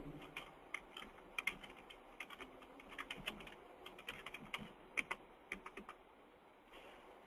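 Fingers tap quickly across a computer keyboard, entering a shopping cart description as irregular bursts of light clicks that stay close and fairly quiet, then trail off near the end.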